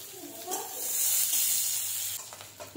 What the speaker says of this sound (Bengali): দিয়ে দিচ্ছি একটা ছোটো সাইজের পেঁয়াজ কুচোনো। এটা ভালোভাবে ভেজে নেব।